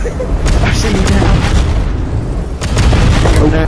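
Booming explosions and gunfire in the War Dust video game during a large 32 vs 32 battle on the Siege of Dubai map, heavy and continuous, with repeated loud blasts. Players talk over the din.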